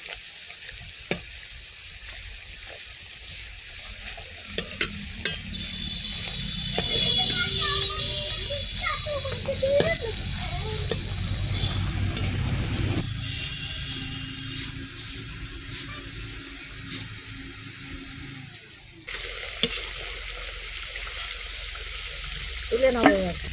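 Chickpea and taro chops fry in hot oil, making a continuous crackling sizzle that shifts as they are stirred and turned. Voices are heard faintly in the background.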